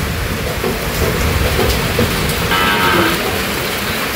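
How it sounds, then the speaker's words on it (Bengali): Rain falls outside after a heavy morning downpour, a steady broadband hiss with a low rumbling undertone and a slight swell in the middle. "সকালবেলা অনেক বৃষ্টি হয়েছে, এখন একটু কমছে।"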